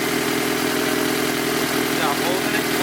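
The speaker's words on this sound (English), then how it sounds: "we're just gonna let it idle for 10-20 minutes and just let all the air come out" A Honda Civic with a K20 engine idles steadily while air bleeds from the cooling system, a constant close mechanical hum with no break throughout.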